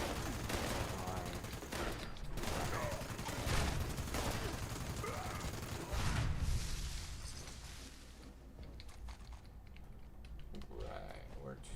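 Fallout 76 gunfire, bursts of rapid shots with sharp cracks and a few heavier blasts, set against quieter gameplay sounds and trailing off toward the end.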